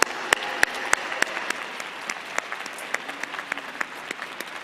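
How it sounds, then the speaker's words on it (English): Commencement audience applauding in a large hall, a sparse, scattered patter of individual claps that thins out over several seconds, moderately distant, with no talking. "Now applause."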